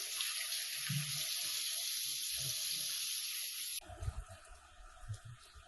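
Water runs from a tap into a sink while a face is rinsed of a sandalwood face pack, a steady close hiss that stops abruptly, followed by a few soft splashes and wet handling sounds.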